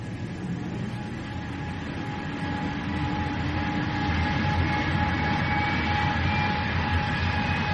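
Aircraft engine effect for a radio drama of a jet pushing back from its stand, a continuous loud droning roar with a steady high whine that swells slightly midway, heard alone without voices.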